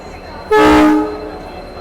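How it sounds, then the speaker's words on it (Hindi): A single loud, close blast of a diesel locomotive horn, a WDP 4D, lasts about half a second over a low rumble, then fades out. "डीजल लोकोमोटिव के साथ कौन सी गाड़ी आ रही है देखने वाली बात है"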